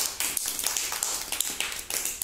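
Schoolchildren in a classroom clap for a classmate, a dense, rapid burst of many small hands slapping together close by, sustained for a couple of seconds with no talk.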